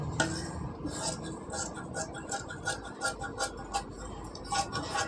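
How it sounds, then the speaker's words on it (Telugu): Scissors snip through blouse fabric in a string of short, crisp cuts with a steady rhythm, close up, and quiet room noise underneath. "ఇప్పుడు అవుట్ సైడ్ మొత్తం కట్ చేసేసుకుందాం"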